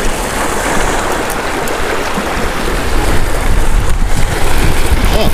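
Heavy rain pours down during fishing at a shoreline edge, a dense, loud, continuous hiss and patter that grows slightly heavier toward the end, with no voices.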